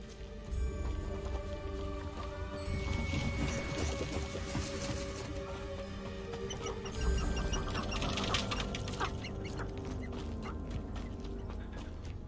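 A waterfall in a video game rushes as a steady, full-bodied wash of falling water, continuous and even throughout, with a faint melodic game score layered underneath.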